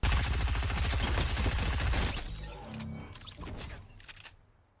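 Rapid SMG gunfire from the Fortnite video game, a dense, loud burst of fast shots lasting about two seconds, then sparser trailing sounds fading out.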